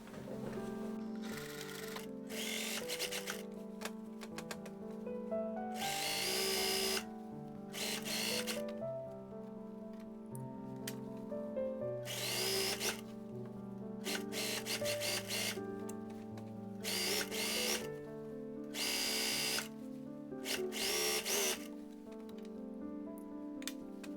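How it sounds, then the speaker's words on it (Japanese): A sewing machine stitches the opening of a shoulder bag, running in steady mechanical bursts with brief pauses between runs and a constant whirring hum underneath, close and fairly loud, with no talking. "表を見て袋の口を縫っていきます。"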